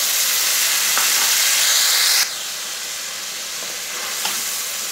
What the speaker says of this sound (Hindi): अच्छे से हमारा प्याज फ्राई हो चुका है। अब हम इसमें डाल देंगे टमाटो पेस्ट।